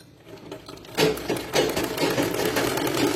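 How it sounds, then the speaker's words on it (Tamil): A sewing machine stitches an umbrella-style churidar panel cut from an old saree, its motor starting after a quiet moment and running in close, steady bursts of rapid needle clatter. "இந்த மாதிரி பரட்டி வச்சு ஸ்டிச் பண்ண ஆரம்பிச்சிருங்க பேனலை."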